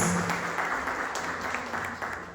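Applause from a church congregation welcoming a pastor, a dense, even wash of clapping that carries on steadily for the full short stretch.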